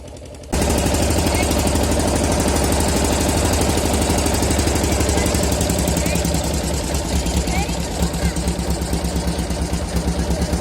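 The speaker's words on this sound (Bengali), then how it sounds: "আমাদের পাশ থেকেই একদম জাহাজ যাচ্ছে, আর এই জাহাজটা আসছে ঢাকা বাংলাদেশ থেকে" A ship out of Dhaka, Bangladesh, passes close beside a boat. A heavy engine drone starts abruptly and then runs loud and continuous with a rough, knocking throb.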